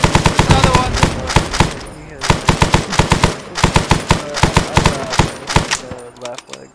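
Automatic gunfire from the Vietnam-era combat game Arma 3 crackles in loud, rapid bursts with short gaps between them, close and dominant throughout.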